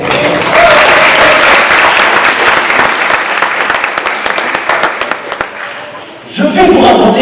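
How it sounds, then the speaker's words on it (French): A theatre audience at an evening show claps in a thick, sustained wave of applause that fills most of the moment, then fades as a voice begins talking at the end. "Est-ce que c'est possible de vous applaudir?"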